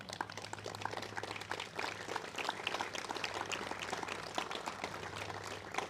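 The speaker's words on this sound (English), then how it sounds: "Please give them a round of applause at this time." An audience at a 9/11 remembrance ceremony at Sebastian River High School claps in a soft, steady round of applause, faint and somewhat distant, over a low hum.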